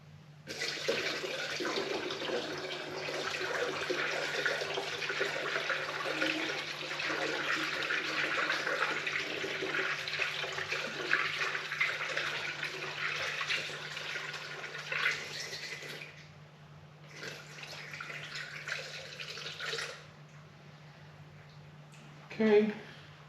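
Distilled water pours steadily into a Ford car's coolant reservoir with a continuous splashing trickle, fairly close, stopping and restarting briefly near the end over a low steady hum.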